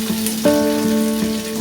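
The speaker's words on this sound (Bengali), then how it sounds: "পেঁয়াজ কুচিটা দিলাম, দিয়ে আরো 3 থেকে 4 মিনিট ভেজে নেব। আর ওই সাইডে আমি মাছের মাথাটা ভেজে নেব।" Chopped onion and a fish head fry in a pan with a loud, steady sizzle, close up, while a faint tonal hum runs beneath it; no one speaks.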